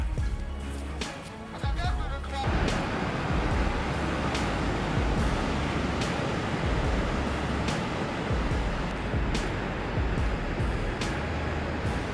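Heavy ocean surf roars continuously in the Bay of Biscay, a dense wash of crashing water and wind with no voices, steady and loud throughout.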